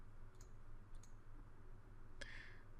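A few faint, crisp computer mouse clicks during GIS software work, two soft ones early and a sharper click near the end, over low steady background hum.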